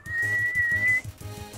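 Whistle in the Undertale video game, one sustained high steady tone lasting about a second over a bouncy chiptune beat, clear and prominent.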